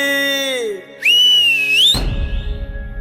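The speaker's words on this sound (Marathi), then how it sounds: "शिट्टी वाजली" A shrill, sustained whistle blast about a second long, rising in pitch at its end, preceded by a falling tone and followed by rough rumbling noise.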